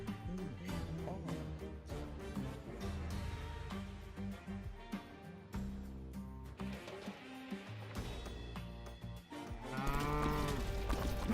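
A cow moos within the music and effects of a video game trailer, shown at a German indie showcase, with the low lowing voice set among dense sound.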